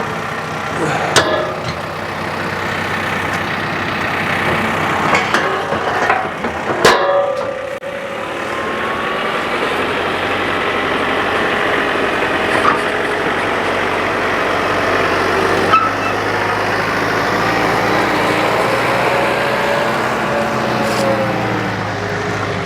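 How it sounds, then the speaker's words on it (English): A heavy tractor engine idles and rumbles steadily at close range on a cattle farm driveway, a low constant drone with a few clanks near the start. "We'll drive it out with the tractor."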